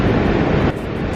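Rushing river water at a Yosemite crossing: a dense, loud, continuous broadband roar close by, with a slight dip in intensity partway through.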